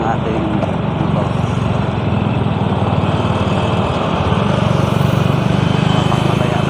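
A motorcycle engine with technical trouble and a broken horn runs steadily and loudly close by, a continuous low rumbling drone that swells slightly toward the end.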